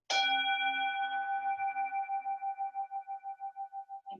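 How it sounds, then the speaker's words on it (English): A meditation bell, struck once during a toddler yoga session, rings out clearly and alone, its pure tone slowly fading with a gentle pulsing shimmer over about four seconds. "I'm going to strike my bell, and I want you to listen to the sound of the bell"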